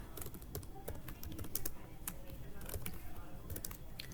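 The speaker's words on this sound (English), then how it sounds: "I'm going to type down here underneath." Rapid, uneven clicking of a computer keyboard as someone types, close and fairly steady for a few seconds, with a few louder keystrokes standing out and no voices.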